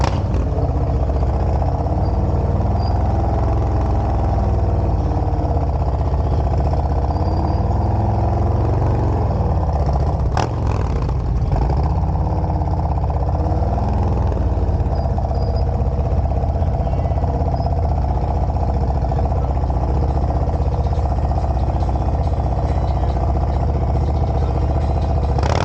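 A motorcycle engine runs low and steady at a slow, near-stopped riding pace, a continuous rumbling drone with a brief clatter partway through.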